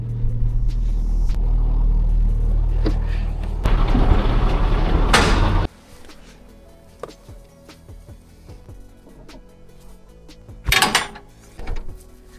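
A car towing a trailer reverses on a road in Germany, a loud, steady low engine rumble that swells briefly and then cuts off, followed by quieter scattered clunks and a short burst of noise.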